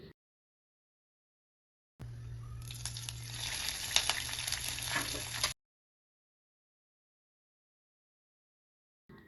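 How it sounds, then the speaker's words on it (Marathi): A hot tempering of mustard seeds, curry leaves, urad dal, asafoetida and coriander poured onto cooked rice gives a sudden burst of crackling sizzle that lasts a few seconds and then stops, with silence around it. "त्यानंतर कोथिंबीर टाकली, थोडंसं हिंग टाकलं आणि ही फोडणी भातावर टाकली"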